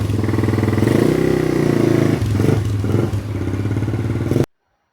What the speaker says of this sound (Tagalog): tinest drive ni Bossing yung motor natin para ma-check yung mga braking system kung wala bang sayad